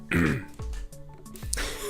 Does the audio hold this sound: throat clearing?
yes